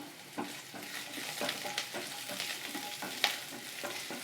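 Garlic and ginger sauté in a pan for a mint and coriander chutney, with a steady oily sizzle broken by repeated scraping stirs of a spatula, close and moderately loud.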